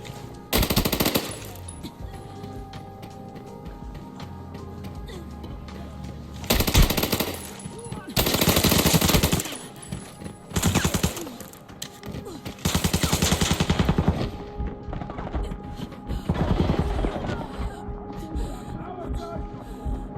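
AEK assault rifle fire in the game Arena Breakout comes in several loud, close full-auto bursts of rapid shots, separated by quieter gaps of ambient game sound.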